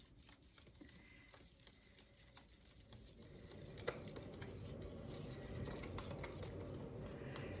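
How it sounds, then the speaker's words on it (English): A thicker Dollar Tree popsicle stick stirring a thin, watery mixture in a container, soft quiet scraping and light tapping patter, gradually growing a little busier, with no talking. "I just have one of these popsicle sticks from the Dollar Tree, these thicker ones,"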